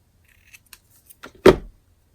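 A few faint clicks, then a short crisp snip of scissors trimming a paper gift card holder, close and isolated in an otherwise quiet room.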